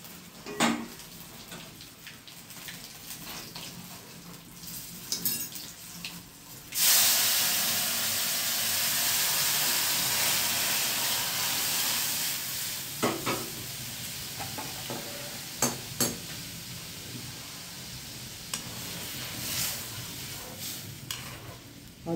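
Whole spices crackle and sizzle in hot oil as a tempering for Gujarati tuvar dal, with dried red chillies, cloves, garlic, green chilli and asafoetida going in. A loud burst of frying hiss erupts partway through and then settles into a steady sizzle with stirring clinks.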